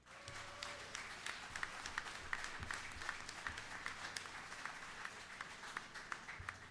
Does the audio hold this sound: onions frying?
no